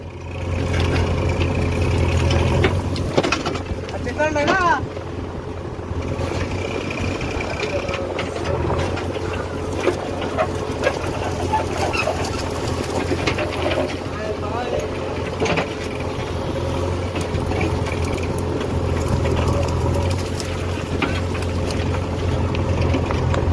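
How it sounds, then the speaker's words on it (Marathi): A farm tractor engine labouring uphill, a steady low diesel drone with a constant throb that runs the whole time, with people talking intermittently over it. "मान्या सुरू आहे आमचा ट्रॅक्टर घेऊन वर चालला"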